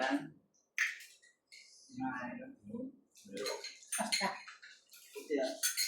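A spoon clinks and scrapes while stirring chatpati in a bowl, in short metallic bursts that come and go under steady, lively talk from several people.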